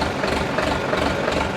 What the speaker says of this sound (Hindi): भाई ट्रैक्टर की आप लोग अब आवाज सुनेंगे